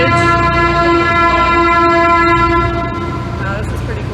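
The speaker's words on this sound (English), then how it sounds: "a vessel goes underneath the bridge. Why does it sound its horn?" A canal cruise boat on the Erie Canal at Lockport sounds its horn while passing under a bridge, a loud, sustained tonal blast lasting nearly three seconds over engine rumble, then fading to ambient noise.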